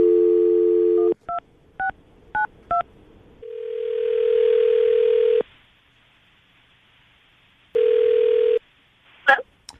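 A phone line carries a steady dial tone followed by a quick series of keypad tones, then a long ringback tone that stops and returns once, close and clear with no talk.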